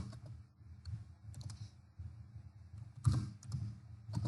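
Fingers typing text on a computer keyboard at a desk, a quiet, irregular run of soft key clicks over a low background hum, with one firmer tap near the end.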